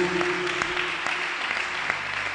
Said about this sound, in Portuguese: Put the hands together for Jesus